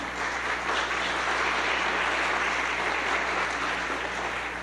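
An audience applauds panelists at a ceremony, a dense, even wash of clapping from many hands that holds steady from start to finish.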